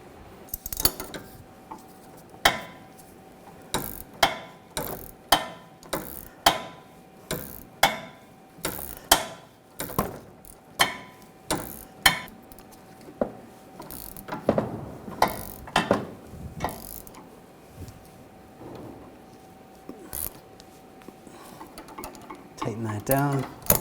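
Ratchet working the sway bar link nut on a Volkswagen Jetta, a long run of regular clicking strokes close up with metallic tool clinks, under low talk.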